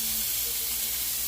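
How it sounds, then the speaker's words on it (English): A spicy meat burger patty sizzles on a hot grill, a steady close hiss and crackle with no talking over it. "Look at that sizzle. Listen to that sizzle."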